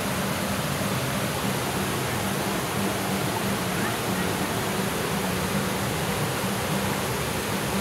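Rhaeadr Nantcol waterfalls in Wales pour with a loud, continuous broadband rush of falling water, dense and unbroken from start to finish with no voices heard.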